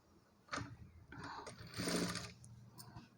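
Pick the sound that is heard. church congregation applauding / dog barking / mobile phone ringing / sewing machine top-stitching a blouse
sewing machine top-stitching a blouse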